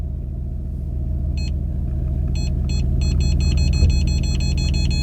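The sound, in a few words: car rear parking sensor warning beeps while reversing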